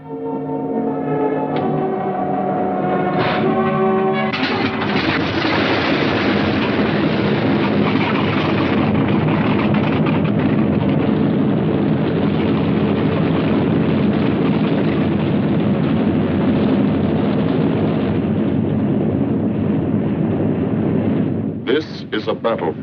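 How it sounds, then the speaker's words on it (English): Several B-17 Flying Fortress bombers in flight over the English countryside, a loud continuous deep roar of piston engines that swells in after a few seconds and holds steady throughout, no talking. "Only the roaring engine sound of the bombers pounding through the quiet English countryside."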